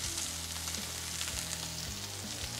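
Meat frying in a hot pan, giving a steady, close hiss and crackle of sizzling fat that runs unbroken and fairly quietly, with no voices.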